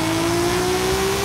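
Nissan Skyline R34 with a fully built engine of about 800 horsepower, drag-tuned in Forza Horizon 5, holding a steady high rev with a slowly climbing pitch, loud and close with no talking.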